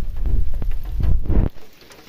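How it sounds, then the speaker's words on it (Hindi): Rain falling outdoors, a dense close patter with heavier thumps and bursts that drops off sharply near the end, leaving faint drizzle. "तो अभी भी थोड़ी थोड़ी बारिश लगी हुई है।"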